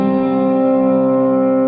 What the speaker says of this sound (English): that's where I kick on the distortion / overdrive